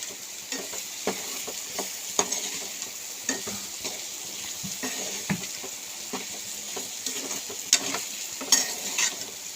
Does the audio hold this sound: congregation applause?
no